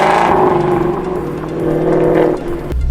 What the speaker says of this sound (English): I'm just gonna pull out on the highway nice and smoothly.